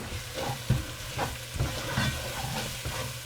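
Spice mix for a Thai massaman chicken curry stirred into hot oil in a pot, with a steady close sizzle and frying crackle broken by several scraping stir strokes; no voices.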